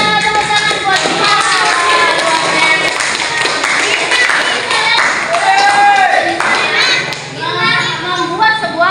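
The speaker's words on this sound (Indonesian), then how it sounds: "Tepuk tangan buat Gina." Classroom clapping for a student after her presentation, a burst of hand claps and taps mixed with children's chatter and voices throughout, fairly loud and close.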